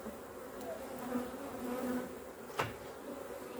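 Bees buzz steadily around a hive while a queen is being moved to a new home, a dense insect drone holding throughout with one brief sharp knock partway through.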